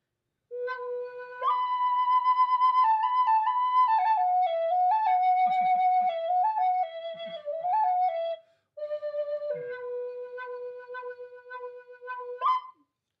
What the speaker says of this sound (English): I'd like to demonstrate this particular flute.